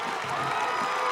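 A crowd cheering at a high school football game, a steady roar of many voices heard from the stands, brief and fairly distant without standout shouts.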